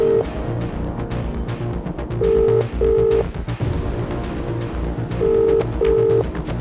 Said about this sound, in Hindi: कॉल जा रही है